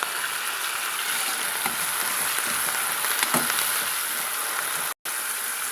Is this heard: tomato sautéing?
yes